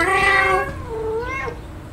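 A cat meows repeatedly while being petted in the horror video game FNAF Into the Pit, a loud drawn-out meow followed by a softer rising one, with no talking.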